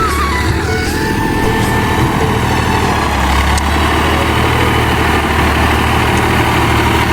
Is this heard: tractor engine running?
yes